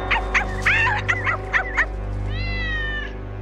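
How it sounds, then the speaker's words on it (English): A cartoon cat meows repeatedly in short, close, fairly loud calls over a steady low hum, ending in one longer drawn-out yowl, with no talking. "All that fuss for a cat"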